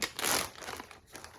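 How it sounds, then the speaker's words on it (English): Plastic bags holding yarn crinkle and rustle up close in one short, soft burst of crackling, with no talking. "I have them in these plastic bags"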